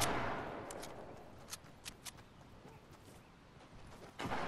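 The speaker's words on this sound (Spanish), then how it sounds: "también estoy acá escuchando en... disparos. ¿Dónde son?" Faint, distant gunshots crack in a scattered series against a hissing background, a few isolated shots followed by a louder burst at the end.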